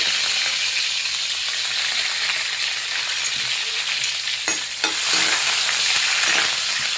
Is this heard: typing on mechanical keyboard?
no